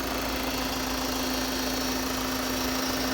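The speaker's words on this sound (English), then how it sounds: "Knock of the diesel engine sounds completely normal." An Audi A3 diesel engine idles with a steady low knocking rumble and a constant high-pitched whine running through it, close and continuous.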